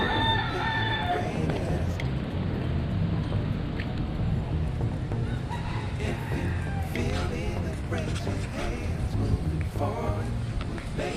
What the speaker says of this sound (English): Look at all the chickens out here.